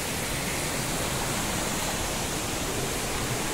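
A rain-swollen waterfall roars in a dense, constant rush of falling water, loud and close, with no talking over it.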